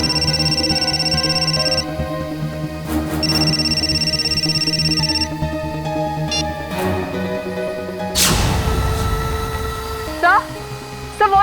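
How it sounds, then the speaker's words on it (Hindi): A phone rings with repeated electronic tones in two bursts, amid busy background sound and a sudden whooshing crash near the end. "सिद्धार्थ का फोन।"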